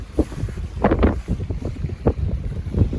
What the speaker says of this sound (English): At the moment, we're getting blown all over the place. It's quite a brisk wind now